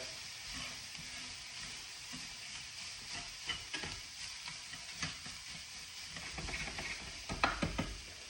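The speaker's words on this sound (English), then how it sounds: "So we're just gonna let that cook just for a few, just to let them sweat." Vegetables sweating over medium-high heat in a pan for sausage gravy, a steady soft sizzle with intermittent spoon stirs and scrapes growing busier toward the end, close and quiet, no talking.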